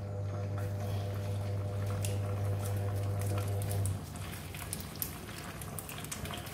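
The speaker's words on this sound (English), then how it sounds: "Okay, just fry it." Half of a large fish head fries in oil in a non-stick pan, crackling and spattering with a steady patter of pops. A low hum runs underneath and then stops partway through, while the frying continues with sharper, scattered spits.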